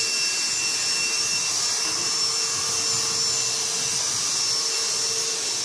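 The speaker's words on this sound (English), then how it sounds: "that is a vacuum cleaner" A vacuum cleaner runs in a 24-hour fitness gym late at night, giving a steady, loud, unbroken whine and rush that holds level throughout with no voices.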